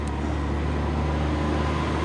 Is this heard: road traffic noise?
yes